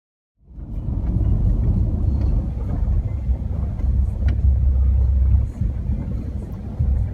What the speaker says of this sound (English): Here comes the truck already.